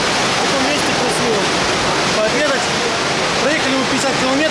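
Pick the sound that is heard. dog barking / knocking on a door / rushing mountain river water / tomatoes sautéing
rushing mountain river water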